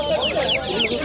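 Chickens and chicks at a poultry bazaar in Mingbuloq give a quick run of close, bright clucks and short chirping calls, several in a row over about a second.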